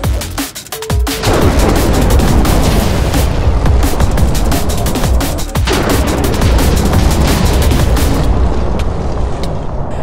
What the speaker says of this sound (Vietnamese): Các bạn vừa nghe tiếng sấm sét đúng không? Đó chính là sức mạnh tối thượng nhất của quỷ súng đó.